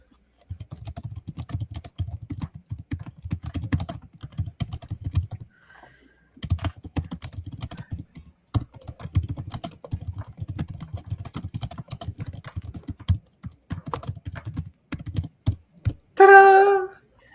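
Typing on a computer keyboard during an online community setup, with close, quiet clicks in bursts separated by short pauses and a brief voice at the end.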